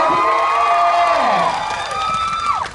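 Audience at a fan event cheering and shrieking loudly, a sustained wave of high excited voices rising and falling over a few seconds.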